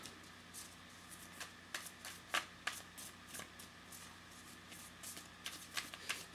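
Tarot cards being shuffled by hand, a series of crisp riffling bursts and soft flicks in an irregular rhythm, close and fairly quiet with brief pauses between.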